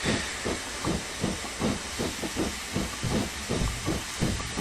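Steam locomotive in the Train Simulator 2016 game hissing steadily, a loud continuous roar of escaping steam with a faint rhythmic chuffing pulse running underneath, no voices.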